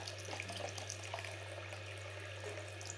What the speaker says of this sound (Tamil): உங்களுக்கு எந்த அளவுக்கு தண்ணி வேணுமோ அந்த அளவுக்கு தண்ணி சேர்த்துக்கலாம்.